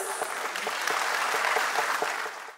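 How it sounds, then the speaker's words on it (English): A crowd at the closing ceremony of a regional sports games applauds, a continuous even wash of clapping with distinct individual hand claps, fading out at the end. "A huge round of applause."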